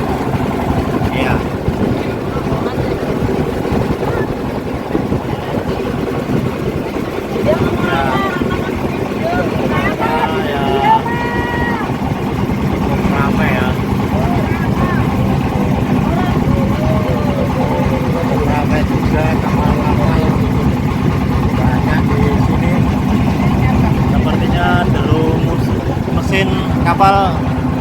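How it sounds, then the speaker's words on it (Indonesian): Steady low drone of a boat engine running continuously as a tourist boat moves along slowly off Gili Ketapang, Probolinggo, East Java, with people talking over it throughout. "Kapal mulai perlahan ya"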